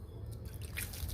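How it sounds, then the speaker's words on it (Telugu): Water poured lightly onto garden soil around amaranth seedlings, with soft close drips and a faint trickle soaking in, quiet and brief with no talking. "ఇదిగోండి, లైట్గా వాటర్ పోస్తున్నాను."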